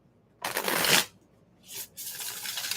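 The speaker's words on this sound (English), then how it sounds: "So everyone ask the tarot this question as I'm start shuffling, and I will pull the cards." Tarot cards being shuffled by hand: a loud riffling burst, a short pause, then a shorter rustle and a longer steady shuffle, close up with no talking.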